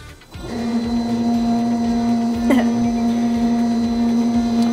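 A shock dyno runs a test cycle on a QA1 Mod Series shock, giving a steady loud mechanical hum with a sustained tone. A brief clunk lands midway as the machine shifts to another speed.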